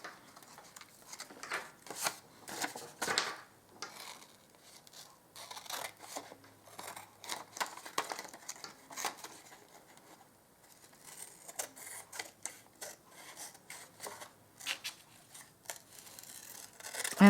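Scissors trim paper for a devotional deck card, giving a series of close, quiet snips and crisp paper cuts in irregular bursts with short gaps between them.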